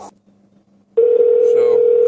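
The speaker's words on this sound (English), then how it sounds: "Dial my phone number here real quick." A steady tone from a car's Blue&Me Bluetooth hands-free system as a phone number is dialed through it, starting after about a second of near silence and holding loud and constant to the end.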